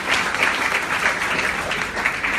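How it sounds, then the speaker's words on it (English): Roughly 300 O-level students in a hall applauding classmates who took part in a game, a continuous, even wash of clapping without a break. "round of applause for all of you for participating"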